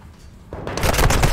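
Rapid gunfire erupts in the Call of Duty Modern Warfare II video game, a sudden loud burst of shots that keeps going after a quieter start.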